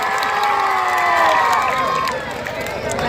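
A wrestling crowd at a village dangal roars and cheers for the wrestler Fakir Baba, a dense loud wash of voices and shouting with an announcer's voice riding over it.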